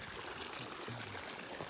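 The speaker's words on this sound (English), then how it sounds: "Ah, runoff." Snowmelt runoff trickling along a backpacking trail, a steady, faint, hissing flow of water with no breaks, heard alone.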